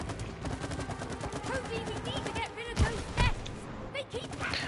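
Rapid gunfire in the co-op game It Takes Two aimed at an insect nest, a steady stream of quick shots with a couple of heavier thuds, under players' chatter.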